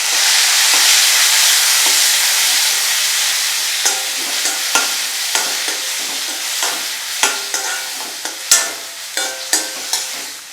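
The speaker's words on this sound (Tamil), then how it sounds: "நல்லா வெங்காயம் பாருங்க இப்படி நல்லா வதங்கினோடனே தக்காளி சேர்த்துக்கலாம்." Onions sizzle loudly in a hot pan, then tomatoes go in for chilli chapathi, with the frying giving way to a series of sharp spatula clacks and stirring scrapes toward the end.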